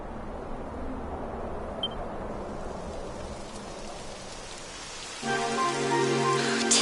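Steady rain in the video game Dragon Quest XI hisses in the background, and near the end a louder patter joins with a low rumbling layer, the downpour growing heavier.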